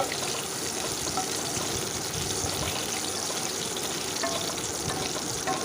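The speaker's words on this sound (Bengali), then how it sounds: "দিয়ে দিচ্ছি এক চামচ গোটা জিরে জিরেটাও একটু ভেজে নিচ্ছি" Whole cumin seeds and cardamom sizzle in hot oil over a low gas flame as a tempering for a vegetarian soybean-potato dish, giving a steady, dense crackling hiss that holds evenly throughout with no talking.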